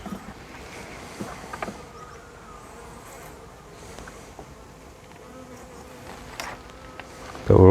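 Honey bees buzz steadily around an open top bar hive on a breezy day, a low continuous drone close by with faint brief knocks, and a louder rustle right at the end.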